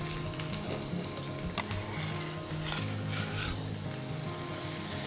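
Garlic and onions sizzle in a pan for spicy ramen with peanut butter sauce, a dense, close hiss with occasional utensil clinks and scrapes, while steady tonal music plays underneath.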